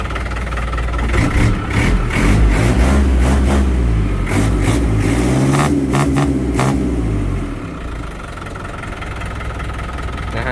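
A KM505 truck with air brakes revs its engine and pulls away, a loud close roar with a few sharp throttle bursts that fades as it drives off.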